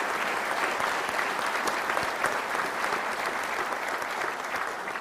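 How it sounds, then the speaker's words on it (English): A large audience applauds steadily at a Battlefield to Boardroom program, dense continuous clapping that stays loud and even for the whole stretch, with no voices over it. "have them give them a round of applause"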